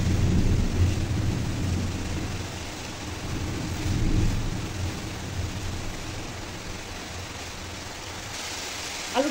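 Heavy rain pours steadily outside with low, rolling thunder rumbling through, swelling around the middle, during cooking of shrimp shutki with potatoes.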